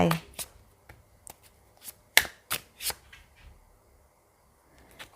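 Tarot cards shuffled and drawn during a reading, a quick riffle followed by sharp, separate slaps and flicks of cards, close and crisp with quiet pauses between them.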